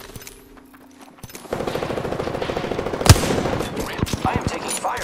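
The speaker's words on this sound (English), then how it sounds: "I am taking fire, friends." Gunfire in the video game Apex Legends, a quiet stretch giving way to a steady run of rapid shots with one sharp, loud blast near the middle, mixed with game sounds and in-game voice lines.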